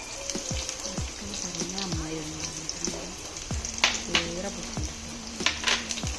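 Onions fry in coconut oil in a pan, a soft sizzle under moderate background noise with a few utensil clinks and scrapes, while some voice-like tones come through faintly.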